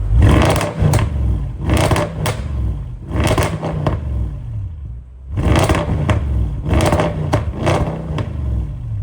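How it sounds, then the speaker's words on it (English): A Lexus car's exhaust revs in repeated sharp bursts close up, each climbing then dropping back, about five or six blips with short idle gaps between. "Let's get an exhaust shot."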